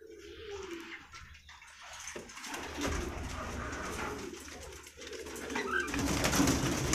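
Crested Siraj fancy pigeons at a breeding farm coo in soft, low, repeated phrases against a busy background of rustling, faint splashing and movement, with the cooing rising and falling throughout.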